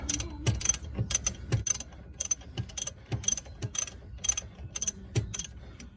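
A ratchet clicks in quick bursts as caliper bolts on a 2007 Chrysler Sebring 2.7L V6 are loosened, with close, repeated rhythmic pawl clicking and no talking.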